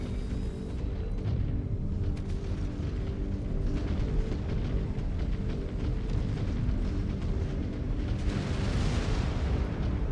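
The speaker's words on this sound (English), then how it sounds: "I hear missiles hitting my team" Missiles strike allied mechs in MechWarrior 5: Clans, Ghost Bear DLC, heard as a steady rumble of distant blasts and artillery-like booms under game music, with a swelling burst near the end.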